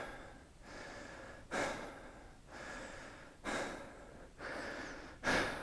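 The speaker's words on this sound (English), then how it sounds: "when I breathe through my chest" Short, rapid chest breaths follow one another closely, each a quick airy inhale or exhale with a sharper burst every couple of seconds, heard up close and fairly quiet with no speech.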